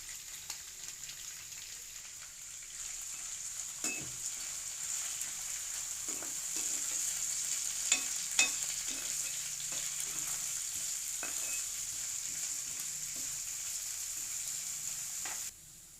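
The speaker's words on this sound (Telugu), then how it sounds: "పచ్చి బఠానీ గ్రీన్ చిల్లీస్ ఆనియన్స్ వేసుకుని వేయించుకోవాలి" Soaked green peas, green chillies and onions fry in hot oil with a steady bright sizzle throughout, broken by a few sharp clicks and scrapes of a spoon against the pan.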